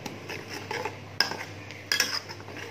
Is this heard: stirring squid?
yes